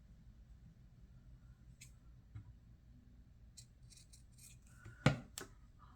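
A single crisp snip of scissors cutting fabric for a small stitched bookmark, heard close near the end of an otherwise quiet stretch with faint handling noises.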